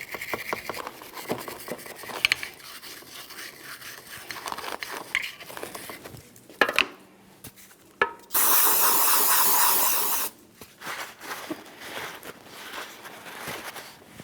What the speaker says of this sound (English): Just going to use some parts cleaner or wire brush.